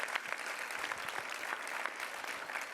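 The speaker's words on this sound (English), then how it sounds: "Let's give her a round of applause as well." Audience at a government affordable housing announcement in the Bronx clapping steadily, a dense patter of many hands heard from a distance at low level, with no speech over it.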